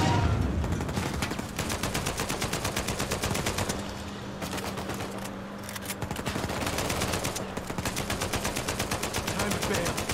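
Sustained rapid automatic gunfire in the action game Uncharted 4 during a vehicle chase: dense, continuous bursts of shots loud and close, with a brief lull midway before the firing resumes.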